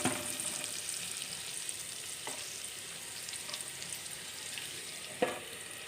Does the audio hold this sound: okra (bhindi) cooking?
yes